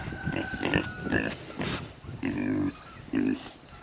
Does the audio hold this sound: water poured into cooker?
no